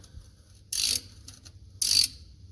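Ratchet cracking loose a transmission sump bolt on a Holden VE Commodore with a four-speed automatic, two short bursts of fast clicking about a second apart, close and crisp against quiet surroundings.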